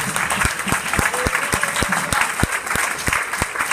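Loud applause from a church congregation, a rhythmic run of sharp claps in unison at a steady beat, continuing throughout.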